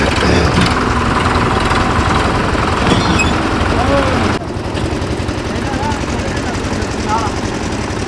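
A tractor engine idles and runs on a farm, a loud continuous chugging drone that drops slightly in level partway through, with someone talking over it.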